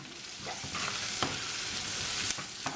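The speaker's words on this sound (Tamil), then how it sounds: "ஒரு காம்பு கருவேப்பிலை போட்டு இதை மிக்ஸ் பண்ணி நல்லா வதங்க விடுவோம்." Curry leaves sautéing in a pan, a dense continuous frying sizzle with occasional brief clicks and scrapes of stirring, close and steady with no voices.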